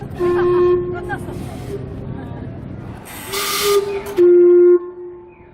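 A steam clock in Otaru, Japan sounds a sustained steam whistle tone, interrupted by a loud burst of hissing steam, then a louder whistle blast, with faint talk and crowd noise behind.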